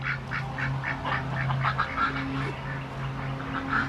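Several ducks quack steadily in a rhythmic chorus over a low, constant hum in the background.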